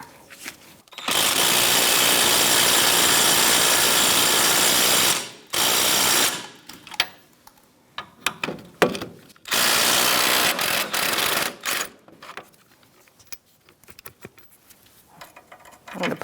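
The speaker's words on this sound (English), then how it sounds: "we're going to use a 17mm socket to get our caliper bracket bolts out" A ratchet fitted with a 17mm socket loosens caliper bracket bolts on a 2010-2013 Kia Soul front brake. Two long, loud, close bursts of rapid clicking are followed by shorter, scattered ratchet strokes and clanks.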